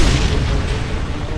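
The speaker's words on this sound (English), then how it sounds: "That cannon will tear you apart!" Heavy cannon fire in the war shooter Homefront, a dense, continuous booming roar of explosions that fills the whole moment without a pause.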